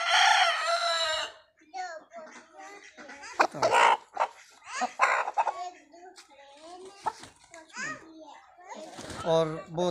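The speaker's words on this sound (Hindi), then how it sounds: "और बहुत अच्छी मुर्गी है, ये देखिए।" Aseel chickens cluck and an Aseel rooster crows nearby, mixed with a voice and other chatter, the calls coming in uneven bursts.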